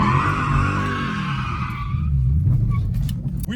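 A flooded Mustang drifts with loud, sustained tire squeal and a revving engine, the skid tapering off after about two seconds into rougher rumble and scuffing, all close by.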